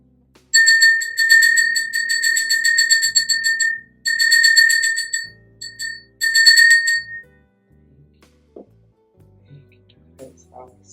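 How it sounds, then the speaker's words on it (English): A bell is struck for sound healing, ringing out in bright sustained tones across several strikes with short gaps, then fading as quiet speech and room noise take over. "We're going to clear this bell"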